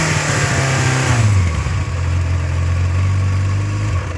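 A 1992 Yamaha XJ600 Seca II motorcycle engine revs up high and loud, then drops back to a steady idle with a brief blip near the end, close up.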